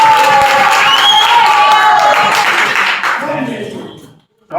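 A live audience applauds and cheers a comedy act at a talent show, a loud, dense wash of clapping and crowd noise that holds steady, then fades out near the end.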